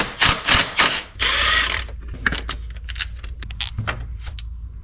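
Pulley removal on a 2010 Subaru Forester engine during a water pump job. A close ratchet clicks in quick bursts, then a steady mechanical rasp follows, trailing into scattered metallic taps and clinks.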